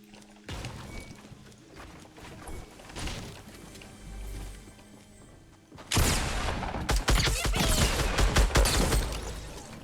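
Hand cannon gunfire in Fortnite: scattered heavy shots in the first half, then a dense, louder burst of rapid gunfire and impacts in the second half, with no talk.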